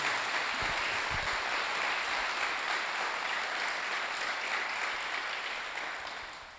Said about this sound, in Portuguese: Pode aplaudir a Jesus, irmãos.